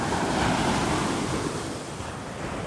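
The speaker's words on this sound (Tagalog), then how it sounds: "Malaki yung alon." Steady roar of big surf at San Felipe beach, Zambales, with broad rushing noise, waves washing continuously, plus some wind buffeting against the microphone.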